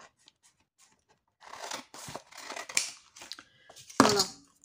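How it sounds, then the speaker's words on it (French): Scissors snip through a scrap of envelope paper for a recycled paper-corner craft, a series of close, crisp cutting and rustling sounds in short bursts after a quiet start. "Il est où mon truc? Mes ciseaux, voilà."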